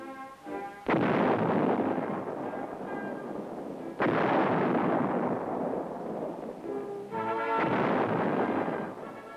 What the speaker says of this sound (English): Many tanks used in training have machine guns mounted and synchronized with the tank guns.